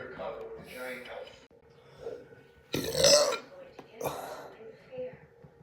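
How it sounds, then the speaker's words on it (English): A woman lets out a loud, gurgling burp up close, among smaller throaty grunts and snorts before and after it, with people talking around it. "my wife is burping like crazy"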